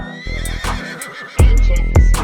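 A horse neighs and whinnies, loud and close, in a few sharp bursts with thumping sounds between them.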